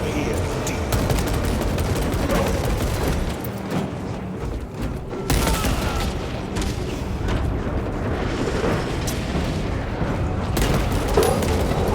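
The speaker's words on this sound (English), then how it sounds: "Deploying frag grenade!" A frag grenade blasts during a Warhammer 40,000: Space Marine 2 battle, a loud boom amid constant heavy gunfire and explosions, with game voices speaking over the din.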